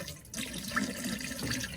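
Antifreeze poured into a camper toilet, a short splashing liquid pour with trickling and gurgling as it drains toward the tank, heard close up with no talk.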